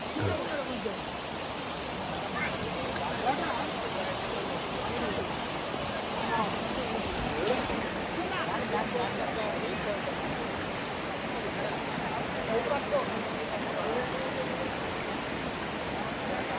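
A waterfall near Raikal pours with heavy flow, a steady broadband rush of water holding close and constant throughout, with faint voices now and then beneath it.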